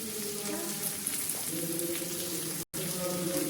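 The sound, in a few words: onion and tomato frying in a pan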